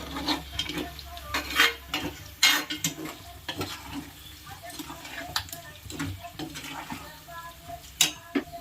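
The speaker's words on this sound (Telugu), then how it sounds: "కారం వేసుకున్న తర్వాత శుభ్రంగా ముక్కలకు పట్టేలాగా దాన్ని గట్టితో తిప్పాలి" Chicken pieces coated in chili powder are stirred in a pan with a ladle, giving repeated scraping and clattering strokes over a soft sizzle, close up.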